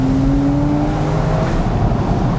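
A Porsche 911 C4S Cabriolet (997.2) flat-six accelerates hard on a winding road, its loud, smooth engine note rising steadily in pitch, heard close and alone without talk.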